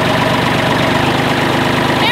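A tractor engine idles loud and close while its front loader forks are worked, giving a steady, throbbing low rumble with no break.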